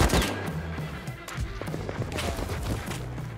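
Rapid gunfire from the survival video game Rust, with dense bursts of shots and thumps running through the whole stretch, loud and continuous, with faint talk underneath.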